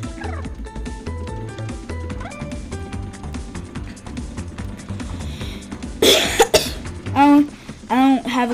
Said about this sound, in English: but I did cough.